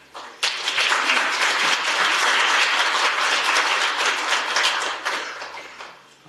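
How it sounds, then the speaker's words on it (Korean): A seated audience at a Korean policy forum on handball and sports betting breaks into applause welcoming a lawmaker, a sudden dense burst of clapping that stays strong and steady before dwindling away. "제가 소개를 해드리면 큰 박수로 환영해 주시기를 부탁드리겠습니다"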